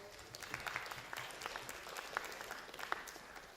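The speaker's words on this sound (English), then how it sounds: "Yes, round of applause." Audience at a school symposium on positive education applauding, a soft, distant spread of many hands clapping continuously with occasional sharper individual claps.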